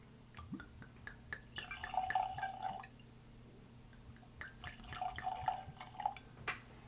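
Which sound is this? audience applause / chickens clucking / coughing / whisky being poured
whisky being poured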